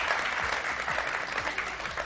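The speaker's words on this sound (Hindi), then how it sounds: "बहुत सारी तालियां।" Dense, steady applause from a studio audience on a morning TV show fills the whole moment, many hands clapping together at close range.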